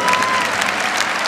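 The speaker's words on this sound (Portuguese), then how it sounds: "Pode aplaudir com força" A congregation at a Catholic healing Mass applauds loudly and steadily, a dense wash of many hands clapping together with no break.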